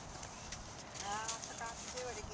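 Hooves of a walking horse clip-clop in a slow, even rhythm during a riding lesson in an arena, moderately close and fairly soft, with an instructor's voice talking over the footfalls.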